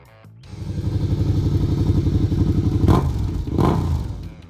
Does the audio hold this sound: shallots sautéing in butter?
no